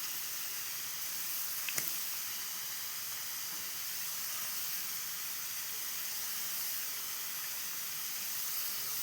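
Potato slices deep frying in hot oil for homemade crispy chips, giving a steady, even bright sizzle and hiss throughout, with one brief sharp pop near the start and no talk.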